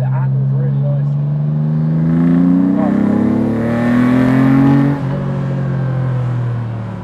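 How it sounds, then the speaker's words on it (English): A TVR Tuscan S straight-six engine revs loudly up and down while the car drives, its rising and falling drone steady and close throughout. "That's proper sounding straight six."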